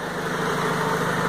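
A 2000 Honda Civic with 110,000 km idles steadily after an STP Petro Plus cleaner is added, a continuous, fairly loud engine drone with even mechanical hum and no voices.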